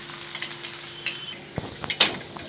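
Spring onion thalipeeth frying in oil in a pan over medium flame gives a faint, steady sizzle, with a few soft scrapes and taps near the end.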